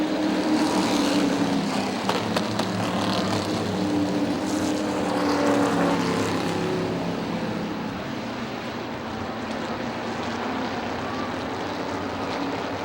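Race cars roaring around the Motordrome Speedway oval during a five-division short-track show, a steady dense engine drone throughout with a slight swell around the middle, with no voices over it.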